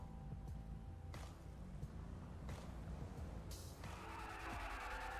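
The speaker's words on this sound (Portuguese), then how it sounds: "Olha lá, cantou pneu." Tires squeal and skid as cars tear through a street race in the video game GTA 5, with engine roar and several sharp screeching bursts, the loudest and longest near the end.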